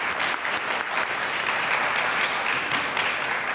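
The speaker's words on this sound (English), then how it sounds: "Let's give them one more round of applause, gratitude for their wisdom." An audience at an MLK birthday panel in the Rothko Chapel gives the panelists a dense, sustained round of applause that holds steady throughout.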